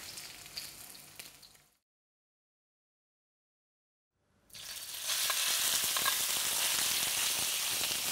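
Loud, steady sizzling of red meat stir-frying in a hot wok on a hob, preceded by quieter kitchen noise and a short silence.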